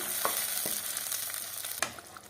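Tomatoes sauté in a pan for garlic onion tamarind kuzhambu, a soft steady sizzle broken by a few light stirring clicks and scrapes, fairly quiet and close.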